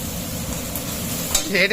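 Carrots, beans and capsicum stir-fried in a pan, a steady close sizzle with a few scraping stirs near the end.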